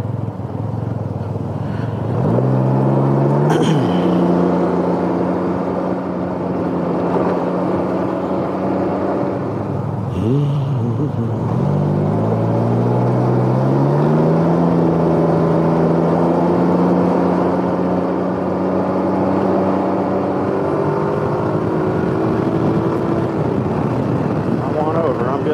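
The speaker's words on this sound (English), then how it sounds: "Traffic on a Friday." Friday road traffic heard while riding a Can-Am Ryker, with a loud steady engine drone and wind rush whose pitch rises and shifts as the machine accelerates, close and continuous throughout.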